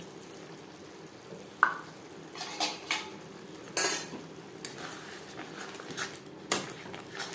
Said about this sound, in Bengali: মশলার সাথে গোবিন্দভোগ চাল বেশ ভালো করে মিক্স করে দেবো